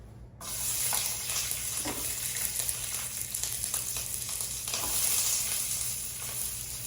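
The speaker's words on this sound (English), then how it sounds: "Here it sizzles." Onions sizzle steadily in hot oil, a continuous crackling fry close by with faint stirring scrapes.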